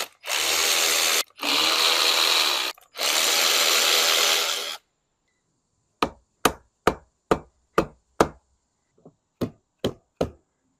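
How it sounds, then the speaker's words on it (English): A power wire wheel grinds loudly on a first-generation Toyota Tacoma axle housing in three long, close bursts, followed by a string of sharp, evenly spaced metallic knocks. "let's start to get this wire wheeled down and sanded to get ready for paint."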